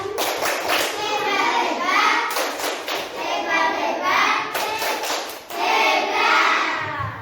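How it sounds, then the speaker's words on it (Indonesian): A group of primary school children claps together in a lively, sustained burst of rapid hand claps, with young voices chattering underneath. "Oke, tepuk tangan."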